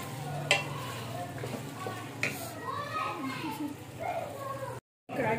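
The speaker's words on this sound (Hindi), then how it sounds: "अब हम इसको अच्छी तरह इसकी भुनाई करेंगे जब तक घी ना इसके ऊपर आ जाए।" Chicken karahi stirred and fried in ghee in a desi dhaba-style pan gives a steady sizzle with scraping stirs throughout. Someone talks over it, children's voices sound faintly in the background, and it cuts briefly to silence near the end.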